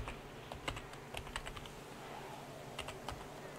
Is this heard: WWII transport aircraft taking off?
no